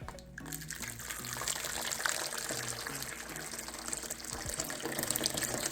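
Very hot water runs steadily from a tap into a vessel, a continuous splashing flow with faint background noise and some low tones under it.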